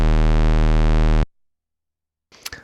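Low house bass from a Moog Matriarch, a single square-wave oscillator set to the lowest 16-foot octave, holding one loud, buzzy sustained note for over a second before cutting off, then a brief faint rustle.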